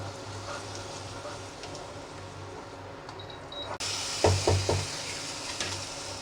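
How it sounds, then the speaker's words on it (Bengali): Spice masala for a Bengali crab curry cooks in a pan, a faint low sizzle with a steady background hum, then louder scraping stirs near the end. "এটাকে ভালো করে কষাতে হবে যতক্ষণ না মশলাটার থেকে তেল"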